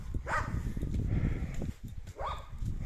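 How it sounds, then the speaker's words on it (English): A dog close by on a road in a Mexican town gives two short whining yelps, rising and falling, over steady outdoor background noise. "There's this dog behind me. Look at that dog."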